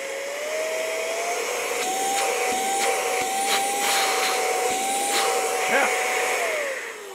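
A cordless Empanar compressed-air duster blowing air: a loud, steady high-pitched whir with a rising and falling tone that winds down at the end, close up and alone.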